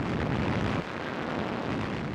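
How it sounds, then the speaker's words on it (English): An artillery barrage pounds the front at Tunisia in 1943, a dense, continuous rumble of blasts with a heavy roar that eases off slightly partway through, loud and unbroken. "The ear-splitting crescendo of fire annihilated many of von Arnim's forward defenses."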